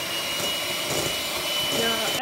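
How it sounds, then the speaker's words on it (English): An electric whisk beats egg whites toward stiff peaks, a steady close whirring drone running unbroken throughout with no talk. "whisk until your egg whites form stiff peaks"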